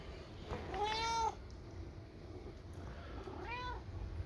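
Two cat meows, the first long and rising-falling, the second shorter a couple of seconds later, over a low steady background hum.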